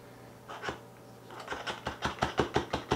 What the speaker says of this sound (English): we're just going to spoon that right into the funnel